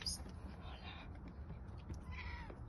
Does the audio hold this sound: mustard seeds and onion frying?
no